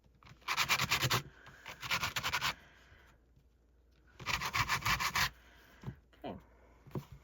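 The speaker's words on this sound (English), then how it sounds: "You can go ahead and give it a really good sanding." Sandpaper rubs back and forth over galvanized metal wire in steady scratchy strokes, two long bursts of close rasping separated by a quiet pause, then a few shorter scrapes.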